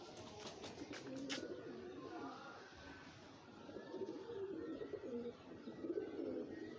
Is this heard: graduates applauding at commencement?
no